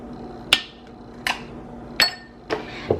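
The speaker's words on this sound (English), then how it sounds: "Add your ice cubes." Ice cubes drop one at a time into a glass for iced Javy coffee, five sharp clinks spaced about half a second apart, close and clear over a quiet room.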